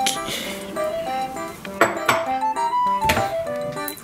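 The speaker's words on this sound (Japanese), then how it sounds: "この中に食器を入れていくということで" Dishes clinking as they are put away in a home kitchen, bright chinks and clatters of tableware coming in short bursts over soft background music.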